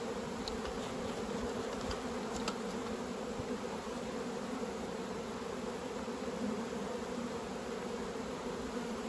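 Honeybees buzz steadily around an opened beehive during autumn work on a hive being reduced from triples to doubles, a dense continuous drone close by with no voices.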